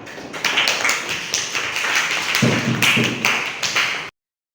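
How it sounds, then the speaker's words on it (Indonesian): A classroom group claps for a fellow group's finished work, a dense burst of hand claps and taps lasting about four seconds before stopping abruptly. "semuanya tepuk tangan"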